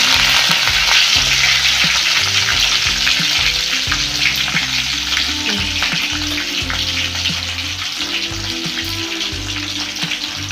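Crushed garlic and curry leaves sizzle steadily in hot frying oil, a loud continuous crackle with occasional stirring clicks and pops throughout, no voices.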